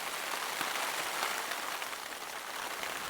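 Steady rain patters on a small tent during a winter snow and thunder storm camping trip, a dense, even hiss of drops close overhead with no voices.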